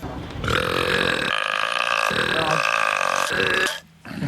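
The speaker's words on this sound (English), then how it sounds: "This apparently is the loudest burp in the Guinness Book World." A loud, prolonged belch from a man in Britain, the Guinness World Records loudest burp, played back as a recording: one long, rough, rasping eructation lasting nearly four seconds before cutting off.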